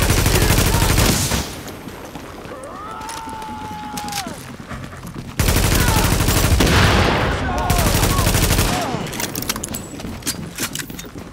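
Hostiles firing automatic weapons in Tom Clancy's The Division at Pennsylvania Plaza, with loud sustained bursts of gunfire, clattering mechanical noise and a synthetic warning voice over the battle.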